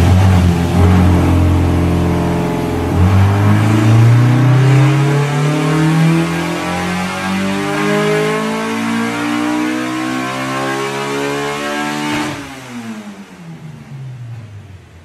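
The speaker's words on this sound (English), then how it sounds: "I'll chuck on just a quick dyno video now" Honda K20-powered DC2 race car engine revving hard on a dyno, a loud sustained rising wail that climbs steadily in pitch for about twelve seconds, then cuts off and falls away as the revs drop.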